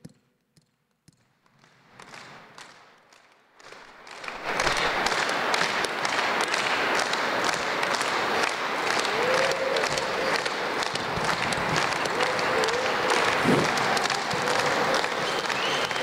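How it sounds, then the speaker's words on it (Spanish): At an Alcoholics Anonymous event in Mexico, a few scattered, tentative claps grow over several seconds into steady, full crowd clapping that carries on strongly as the audience keeps time for a march. "Vamos a acompañar las palmas para que marche."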